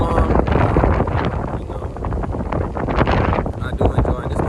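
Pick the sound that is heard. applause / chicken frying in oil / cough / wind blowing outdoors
wind blowing outdoors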